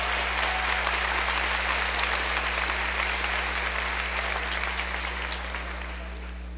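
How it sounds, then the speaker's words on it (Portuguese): A church congregation applauding, a dense, even clatter of many hands clapping hard for several seconds, slowly easing off toward the end over a low electrical hum. "Você pode aplaudir a Jesus com força."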